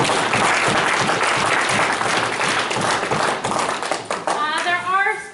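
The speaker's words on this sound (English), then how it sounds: "Maybe just give these guys a round of applause." An audience at a farm business meeting gives a loud, dense round of applause lasting several seconds, then it thins out as a speaker's voice returns over the last claps.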